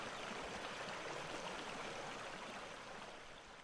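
The Huatulco River flows steadily as a broadband rush of moving water, close and continuous, easing slightly toward the end with no voices.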